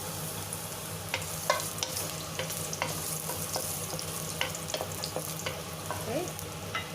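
Ginger stir-fried in a hot pan for a Chinese-style home dinner with broccoli: a steady close sizzle with scattered scraping and clacking strokes of a utensil, no talking.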